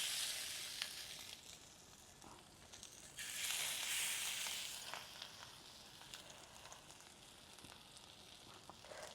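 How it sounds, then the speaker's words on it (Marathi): Katla fish pieces coated in green masala fry in oil over a wood-fired stove, giving a soft, steady crackling sizzle that swells briefly louder midway, with faint clicks and shifts as the pieces move. "आता मासे फ्राय करून घेऊया"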